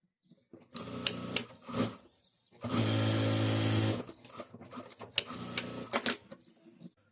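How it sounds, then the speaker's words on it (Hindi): Close-up bursts of a sewing machine stitching a party-wear triangle samosa bag: short runs of rapid needle clatter, then a longer sustained stretch, then more stop-start bursts with small clicks between. "इसके ऊपर मैं दूसरी सिलाई कर देता हूँ।"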